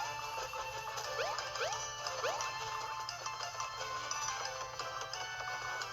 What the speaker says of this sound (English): The bell's ringing again.